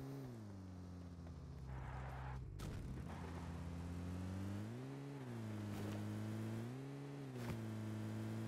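A vehicle engine in a shooter video game drones continuously, its pitch rising and falling as it revs and shifts, with a couple of sharp thumps like distant gunfire along the way.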